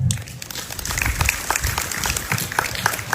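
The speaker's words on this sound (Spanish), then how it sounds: "Aplausos para Naomi Huertas Fernández." A school audience at a Spanish-language book presentation applauds a student performer, with dense, lively clapping throughout and a few louder individual claps standing out close by.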